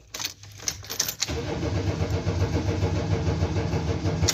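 A stalled automatic four-wheel-drive vehicle in low range starts up again: a few short clicks and cranking bursts, then the engine catches and settles into a steady, loud, rumbling idle.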